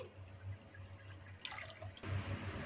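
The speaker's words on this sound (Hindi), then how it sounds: "1 कप पानी शामिल कर देंगे।" Water is poured into a bowl to mix with cornflour for a tamarind chutney, a soft, faint trickle and dripping splash that grows a little fuller toward the end.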